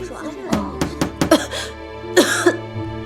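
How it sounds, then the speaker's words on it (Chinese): Several sharp coughs in quick succession, fairly close, followed by a harsher double cough with a throaty edge; muffled voices sit low underneath. "你怎么咳得这么厉害啊？"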